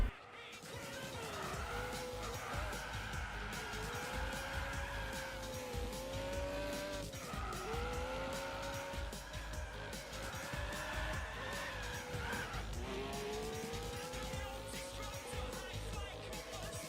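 A Mitsubishi Galant on sports soft tyres skids across tarmac, its engine revving loud and steady while repeated tyre squeals rise and fall in long sweeps, close and continuous throughout.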